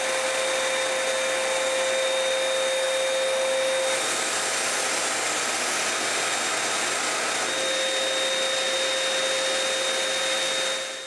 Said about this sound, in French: c'est parti pour vaporiser la première couche de vernis.